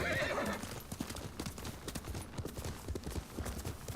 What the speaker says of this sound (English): Alright, let's call the horse back.